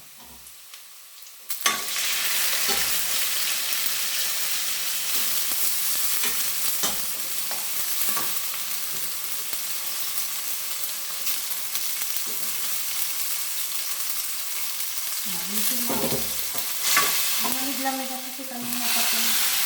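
Boiled mung beans going into a hot pan and being sautéed, starting with a sharp clatter, then a loud continuous sizzle broken by repeated stirring scrapes and utensil knocks near the end.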